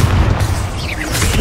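A Confringo blasting spell explodes in Hogwarts Legacy, a continuous rumbling roar of booms and crackling blasts that stays loud and dense throughout, with fiery hissing over a deep low rumble.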